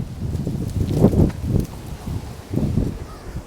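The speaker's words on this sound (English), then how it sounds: "Well, it certainly is windy out today." Gusty outdoor wind buffeting the microphone in low rumbling bursts that rise and fall, with rustling in between, on a walking tour of the Hydrostone neighbourhood.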